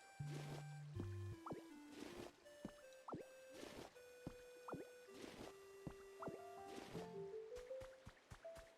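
Soft water gurgling and dripping in the video game Pokopia, a string of small bubbly plinks and drips over steady tonal game music, moderately close and fairly quiet.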